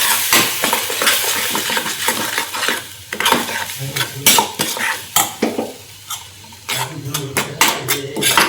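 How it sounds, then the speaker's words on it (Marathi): Cumin and masala roasting in oil while being stirred, a loud close sizzle under repeated sharp scrapes and knocks of a spatula on the pan, in uneven bursts. "तेल सुटेपर्यंत त्याला भाजून घ्यायचं"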